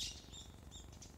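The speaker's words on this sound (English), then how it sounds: "You hear them? The birds." Small birds chirp in short, high tweets at King Gongmin's shrine in Mapo-gu, several calls scattered across a quiet outdoor background, faint and somewhat distant.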